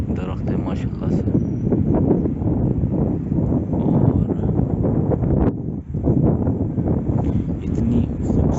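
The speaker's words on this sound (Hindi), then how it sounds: "इतनी खूबसूरत हवा चल रही है, इतनी मज़ेदार दरख्तों से होती हुई।" Steady wind rushes through the huge trees of Kalam's Ushu forest in Swat, a continuous loud roar with gusty texture, while someone speaks faintly over it.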